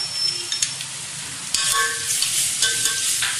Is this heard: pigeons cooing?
no